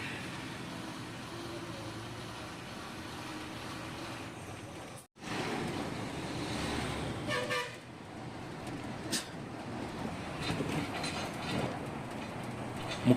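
An SETC bus pulls away from Kanchipuram with continuous engine and road noise, a horn toot partway through and more traffic sounds after.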